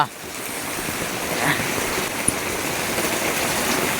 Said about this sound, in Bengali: কি বৃষ্টি, কি বৃষ্টি, জোর বৃষ্টি।